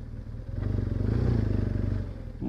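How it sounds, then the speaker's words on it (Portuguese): A motorcycle ridden through deep loose sand, its engine close and throbbing at a steady pulsing beat, rising slightly in the middle and easing off toward the end. "A moto dá umas reboladinhas no areião."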